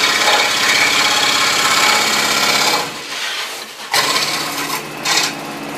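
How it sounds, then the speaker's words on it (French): A scroll saw buzzes steadily through wood for about three seconds, then stops; two short bursts of cutting follow with quieter gaps between. "Voilà rendu au bout de notre test de cette scie à chantourner."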